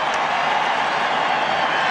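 Redskins fans in a packed Super Bowl stadium roar and applaud in a steady, dense wash of crowd noise that holds at full volume throughout, with no break or lull.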